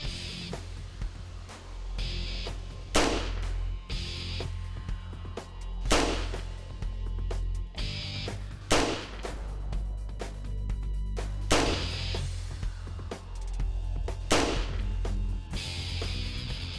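Original muzzleloader target rifle fired at a target, several loud sharp shots spaced a few seconds apart over a low steady background rumble.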